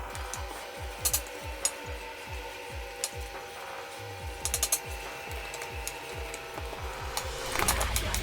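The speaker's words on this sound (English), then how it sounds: "then we're going to whisk it together" Wet and dry cheesecake ingredients whisked together in a bowl, a steady run of quick rhythmic scraping strokes, close and fairly quiet, with a few sharper clicks of the whisk against the bowl.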